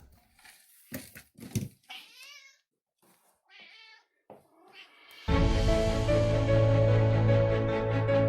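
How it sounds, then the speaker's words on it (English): A pet cat meows and caterwauls in several short, close calls while its food is given, followed by loud sustained music. "Here's a video of me giving him his food, and he loves his food, as you know."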